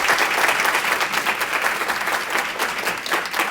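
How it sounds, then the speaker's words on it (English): Sustained audience applause for panelists at an advocacy day event, a dense, steady wash of many hands clapping filling the room from start to finish. "Can we get a round of applause for our awesome panelists?"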